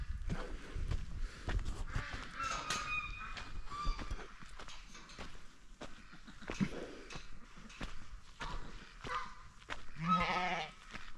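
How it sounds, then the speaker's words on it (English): Sheep bleat on a farm amid other livestock, several short bleats at moderate distance, mixed with footsteps and background noise. "Ah, the sheep."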